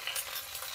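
Ginger paste and tomato frying in a pan, giving a steady close hiss and sizzle with no talking.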